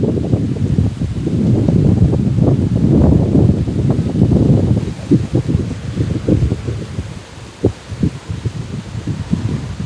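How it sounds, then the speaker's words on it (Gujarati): Wind gusts through a garden by a lake in Dindoli, Surat. A loud, rushing blow with rustling fills the first half, then eases into lighter, intermittent puffs and rustles. "આમ જુઓ અને પવન એટલો સારો આવે છે અત્યારે।"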